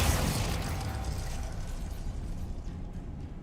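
A Glacius ice spell is cast in Hogwarts Legacy: a sharp, crackling burst at the onset gives way to a sustained icy, grinding rush that gradually thins out.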